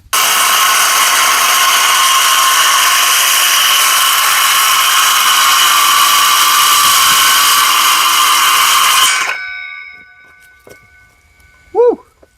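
A power saw running steadily through a long cut in construction lumber, a loud continuous whine lasting about nine seconds before spinning down, followed by a faint bird chirp.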